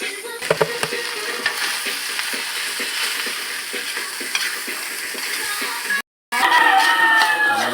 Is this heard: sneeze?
no